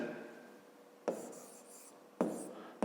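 Hand writing down a length measurement with a pen on paper during a fifth-grade geometry lesson, heard as a faint continuous scratch broken by three short, sharper strokes.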